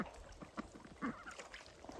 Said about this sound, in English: The ducks are out because they always like to come up for their water.